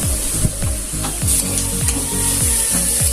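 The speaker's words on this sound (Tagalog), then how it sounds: "haluin na po natin siya at sabay-sabay na po natin siyang pagsasamahin para haluin" Pakbet vegetables including okra, string beans, eggplant, green chili, bitter melon and squash sizzle loudly in a pan while being stirred, with rhythmic scraping strokes repeating about twice a second over the hiss.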